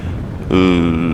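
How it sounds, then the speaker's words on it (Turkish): Low rumbling wind buffeting the microphone while riding a 2024 Honda NC750X DCT motorcycle, joined halfway through by a steady engine drone that stays loud until the end. "gerçekten inanılmaz rüzgar alıyor"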